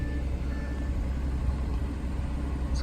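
An Audi A7 with a muffler delete idles steadily on a cold start, giving a low, even, continuous rumble that stays close and fairly quiet with no revving.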